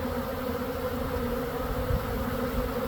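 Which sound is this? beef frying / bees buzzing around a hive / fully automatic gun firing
bees buzzing around a hive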